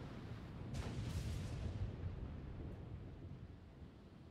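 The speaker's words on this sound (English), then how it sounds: "Oof, it's a storm." A thunderstorm rolls in as a single deep rumble of thunder that swells early, then slowly fades into a low, distant roar.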